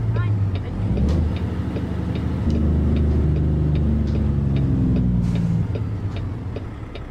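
A truck in a truck driving video game makes a hard downshift, a loud low engine drone that rises in pitch. A voice talks over it.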